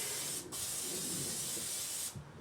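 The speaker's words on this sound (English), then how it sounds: "I also spray the aluminum foil." Two short bursts of hissing cooking spray onto aluminum foil, close by, separated by a brief pause.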